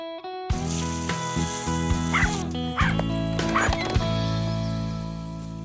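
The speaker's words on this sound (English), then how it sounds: "Oh, it's a West Highland Terrier." A West Highland Terrier in an animated cartoon scene yips and whimpers in several short bursts over a sustained musical background, close and fairly loud.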